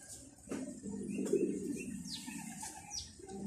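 Young pigeons coo softly at close range in low, repeated murmurs, with faint chirps and a brief wing flutter over a quiet outdoor background.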